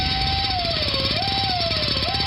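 Whining dentist's drill sound effect in a radio ad, a continuous high mechanical whine that dips and rises in pitch in repeated sweeps over a steady buzzing hum, loud and alone.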